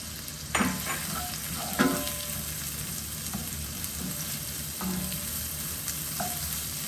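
Onions and red chili fry in olive oil with a continuous moderate sizzle, punctuated by a couple of sharp utensil knocks and stirring scrapes, no one speaking.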